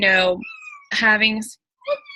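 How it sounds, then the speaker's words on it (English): A house cat meows loudly three times close to the microphone, two long drawn-out calls and a shorter final one, with a person speaking briefly alongside. "Sorry, that was my cat."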